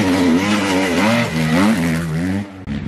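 Dirt bike on a muddy motocross track, its engine loud and close, revving and rising and falling through the gears as it passes, then cutting away near the end.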